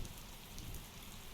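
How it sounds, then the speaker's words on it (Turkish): Steady rain falls in the Euro Truck Simulator 2 driving game, around a Scania NG S410 truck, a dense even hiss of drops with a low rumble beneath, constant and fairly quiet throughout. "Böyle yağmur eşliğinde"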